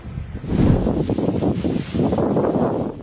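Strong typhoon wind in Batanes roars and buffets against the microphone in loud, rumbling gusts that surge and ease over a few seconds, with no voices.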